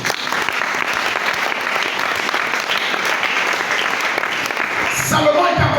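A church congregation applauds during a Sunday worship service, a dense, steady roar of clapping that holds for about five seconds before thinning out at the end.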